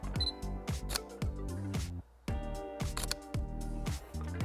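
Camera shutter clicks ring out as a photo is taken, sharp repeated mechanical snaps layered over continuous background music, with a brief drop to near silence midway.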